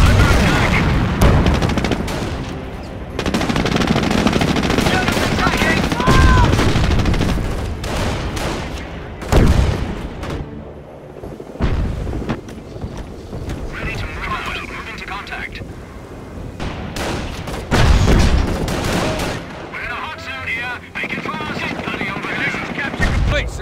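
Battle gunfire in Company of Heroes: Opposing Fronts during the liberation of Caen: loud rifle and machine-gun bursts with heavy booms, dense and close, under shouted soldier voices.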